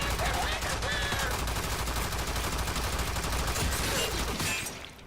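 An enemy shooting in the Warframe video game: rapid, continuous automatic gunfire, loud and steady across the clip before cutting off at the end, with faint game effects underneath.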